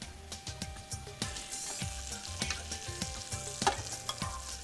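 Chopped onion sizzles in a pan of leftover fat after rabbit meat has been seared, with a steady fry broken by regular, close scraping strokes of stirring about twice a second.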